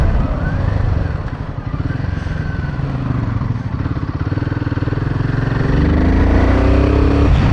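An adventure motorcycle engine runs loud and close with a steady, throbbing beat, climbing in pitch near the end as the revs rise.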